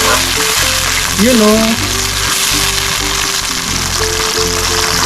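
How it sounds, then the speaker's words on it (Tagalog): Soy sauce poured into a hot pan while cooking Filipino pata paksiw (braised pork hock): a loud, steady sizzle and frying crackle fills the whole stretch, with a brief spoken phrase early on. "Maglagay na po tayo ng toyo."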